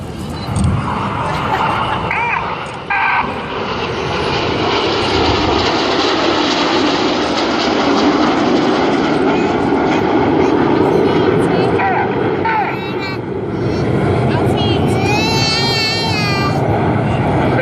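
Red Arrows jets at the Southport Airshow in 2014 roar loudly and continuously overhead, a broad rushing engine sound that swells and holds throughout, with a crowd and voices underneath.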